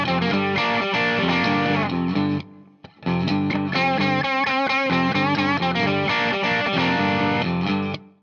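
A distorted electric guitar plays the opening lick of the Kinks' "You Really Got Me" over the rhythm part, loud and continuous, with a brief break just before three seconds, then bends and repeated riffing until it stops.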